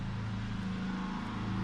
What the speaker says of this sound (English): Got a little background noise, neighbor mowing the grass